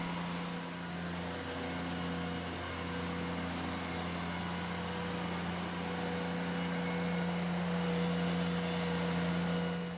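A Ventrac tractor engine runs with a power rake attachment moving dirt and rocks, a continuous low mechanical hum and drone at moderate distance, steady throughout without talking.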